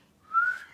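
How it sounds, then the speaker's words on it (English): A child whistles a single short rising note, fairly close and clear, with no talking over it. "Oh, that's a good whistle."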